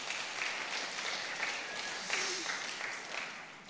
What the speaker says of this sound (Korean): 우리 큰 박수 한번 합시다.